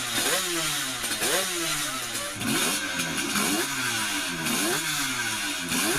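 A two-stroke motorcycle engine revs repeatedly, rising and falling in sharp bursts with a buzzy, raspy tone. It is loud and close, with no talking.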